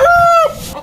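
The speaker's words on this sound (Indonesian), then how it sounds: "ternak ayam metode organik tanpa pakan pabrikan" Rooster crowing on an organic free-range village chicken farm, a single loud close crow with a clear tonal call lasting under half a second.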